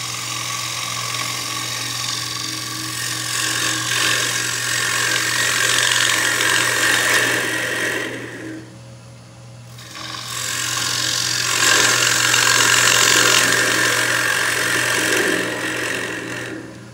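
Wood turning on a lathe while shaping a shallow wooden pencil holder, a steady loud rasping, scraping cut that runs continuously, breaks off briefly for about two seconds mid-way, then resumes just as strongly with no talking.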